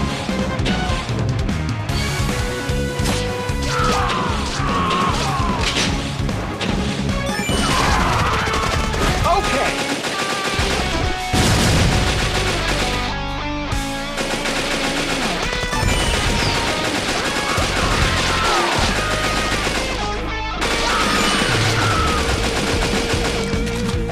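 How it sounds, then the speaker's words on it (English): Rapid laser gun fire from the Metal Slug: Awakening video game, heard as a dense, continuous barrage of loud zapping blasts layered over game music and explosions throughout. "Laser gun!"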